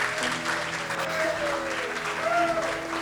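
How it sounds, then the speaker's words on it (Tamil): An indoor audience gives a round of applause at a talk on relieving joint pain with oils, steady clapping throughout, with some voices talking underneath. "ஒரு பெரிய கைத்தட்டல் கொடுக்கலாமா?"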